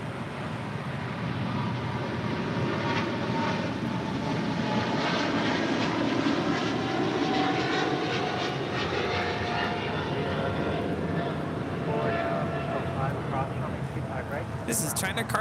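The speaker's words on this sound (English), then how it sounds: "This is China Cargo Airlines Flight 224 departing to Shanghai on a 777 freighter." A China Cargo Airlines Boeing 777 freighter departs LAX, its jet engines a loud, broad roar that swells and holds, with voices talking over it.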